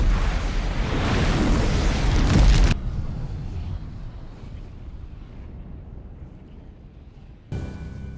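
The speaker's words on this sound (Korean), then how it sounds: "폭발하는 지구." In a science-fiction thriller, the Earth explodes with a loud roaring blast that cuts off sharply into a low, fading rumble, then a brief burst of sound returns near the end.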